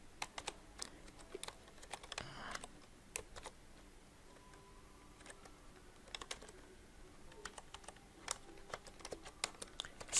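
Code being typed on a computer keyboard, with irregular quiet key clicks in short bursts and pauses, close and alone with no talking.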